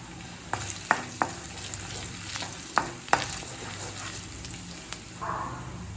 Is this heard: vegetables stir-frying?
yes